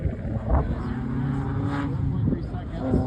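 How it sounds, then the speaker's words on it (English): A custom race car corners during a race with its front tire lifted, running on three wheels. The engine gives a loud, steady roar with brief surges, and faint voices sit underneath. "We are three-wheeling up around the corner"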